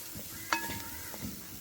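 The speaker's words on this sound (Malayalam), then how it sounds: "ജസ്റ്റ് ഇങ്ങനെ പതുക്കെ ഇളക്കി കൊടുത്താൽ മതി" A spoon stirs chili in a cooking pan, with faint sizzling, a sharp metallic clink and a few soft scraping strokes, quiet and close.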